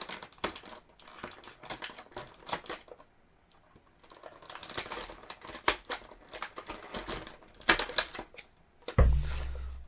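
Tape is peeled and torn from Mattel toy packaging, giving quick crackling rips and crinkles in irregular bursts, close and fairly quiet, ending with a dull thump.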